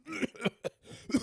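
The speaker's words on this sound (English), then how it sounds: "How long have you had that cough?" A person coughs several times in quick, raspy bursts, close and fairly loud, with brief gaps between each one.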